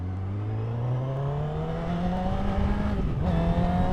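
A 2017 Honda FireBlade SP superbike on Pirelli Supercorsa SP tyres accelerates hard to warm its tyres, the engine note climbing steadily through a gear with a brief dip at a shift before rising again, loud and close.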